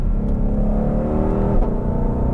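A 2020 Ford GT500 in sport mode revs hard, its exhaust rising in a loud, continuous roar with climbing pitch before a sharp drop, heard close and alone.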